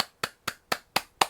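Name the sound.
hand clapping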